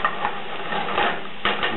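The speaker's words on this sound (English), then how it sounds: "We'll give it a stir." Shrimp and garlic are stirred in a pot, making soft scraping and light sizzling with a few louder scrapes of the spoon, close and fairly quiet, with no voices.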